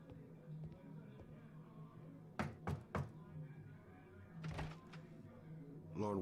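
Knocking on a door inside a video game: a quick burst of three sharp knocks near the middle, a second cluster shortly after, set against a low steady game background hum.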